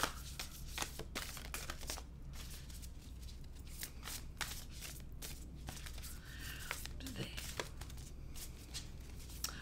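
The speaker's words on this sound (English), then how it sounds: "this is why I don't shuffle live" Cards are shuffled close by in quiet, crisp bursts of riffling and snapping, repeated several times against a soft background.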